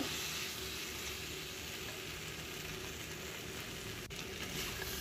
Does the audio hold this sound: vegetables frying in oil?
yes